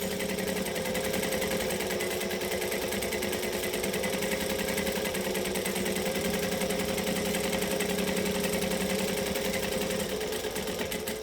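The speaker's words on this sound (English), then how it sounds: "And then I'm just going to top stitch. And I'm top stitching it about 1/8 of an inch." A sewing machine runs steadily, top stitching fabric about an eighth of an inch from the edge, producing a continuous, close, evenly buzzing mechanical whir with rapid needle rhythm and no pauses throughout.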